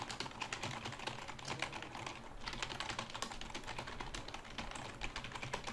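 Rapid typing on a computer keyboard, a quick, irregular stream of close, crisp key clicks and taps with brief pauses, fairly quiet overall.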